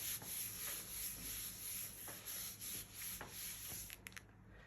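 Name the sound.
trimming card for handmade card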